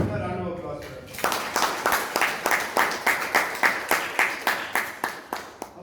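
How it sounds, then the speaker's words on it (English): An audience at a Bangalore Toastmasters meeting applauds the timer, settling after the first second into a near, even rhythmic clapping that keeps a steady beat to the end, following a brief stretch of talk. "Round of applause for her."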